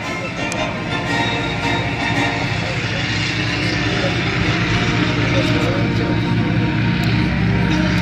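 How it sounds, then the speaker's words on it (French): Junkers F13 replica, a propeller airliner, flying at the La Ferté-Alais airshow: a steady, loud engine and propeller drone holds for the whole stretch with no break, mixed with broad outdoor noise. "Cet avion est une réplique à l'identique du Junkers F-13"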